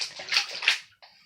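Floodwater pours into a house, coming in at the fireplace and running out the door, a close, steady rushing and sloshing of water that drops away briefly before resuming.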